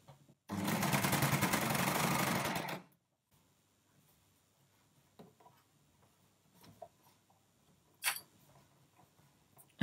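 Sewing machine stitching a seam on harem pants, one steady burst of fast rhythmic stitching lasting about two seconds, followed by quiet handling noises and a sharp click.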